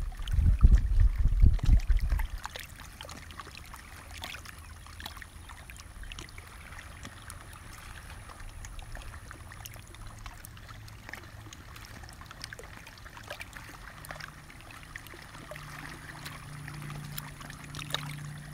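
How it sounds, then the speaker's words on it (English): Gentle water lapping at a lake shore, a soft continuous wash with a brief louder splashing at the start, then steady low trickling throughout with no talk. "Sometimes I just sat and listened to the waves and the birds."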